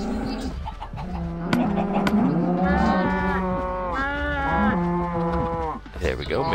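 Cows in Minecraft moo repeatedly in long, drawn-out lowing calls that overlap one another, loud and close, with faint clucking from farm fowl underneath.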